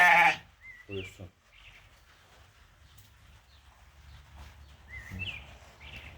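Breeding sheep and young lambs offered for sale give a few bleats, one loud and close at the start and others fainter and scattered, while someone talks quietly between the calls.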